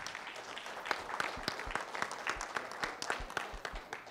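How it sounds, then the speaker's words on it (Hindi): A small audience at a music launch event for the film Mr. Kabaadi claps in scattered, distinct claps, quiet and somewhat sparse, that build into light applause over a few seconds. "प्लीज़ एक बार ज़ोरदार तालियां हो जाए।"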